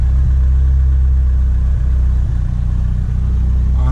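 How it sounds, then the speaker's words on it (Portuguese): A warm VW Saveiro 2.0 turbo with an HX40 turbo and FT400 tuning idles steadily close by, a loud, deep, even rumble that stays constant throughout. "já acertei a lenta do carro quente"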